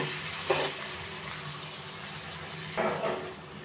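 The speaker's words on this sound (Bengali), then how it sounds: "এবার আমি ছোট বাটির 1 বাটি ভর্তি ভর্তি জল দিয়ে দেব।" Water from a small bowl poured into a pan of masala paneer curry, two short splashing bursts a couple of seconds apart, close and fairly soft.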